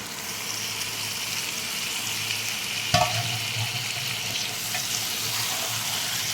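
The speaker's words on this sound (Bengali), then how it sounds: "এবার দিয়ে দেবো ম্যারিনেট করা চিকেন দিয়ে" Marinated chicken with spices fries in a pan, giving a steady, close sizzle with a brief clatter of stirring partway through.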